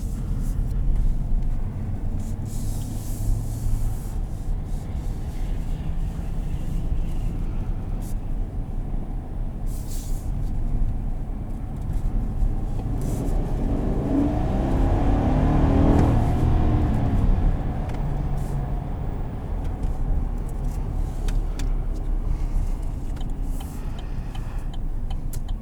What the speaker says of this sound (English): up here I have a straightaway where I can still test acceleration